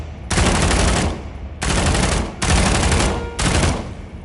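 A P90 submachine gun fires in a VR video game as four rapid, loud full-auto bursts separated by short gaps, close up and with no voices.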